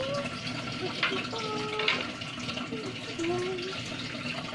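Water runs steadily from a tap while dishes are washed, a continuous close splashing with light clatter and a voice talking over it.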